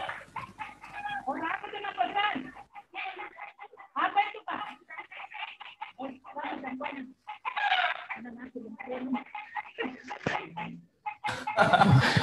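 Chickens and a rooster cluck and crow in a backyard while being fed, heard faintly through a phone connection alongside intermittent, distant talk.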